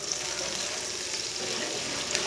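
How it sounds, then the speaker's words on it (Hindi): Water poured into a cooking pot of lightly browned onions in oil for chana dal pulao, a steady hissing splash with a faint sizzle underneath, continuous and fairly close. "थोड़ा सा पानी डाल लेंगे।"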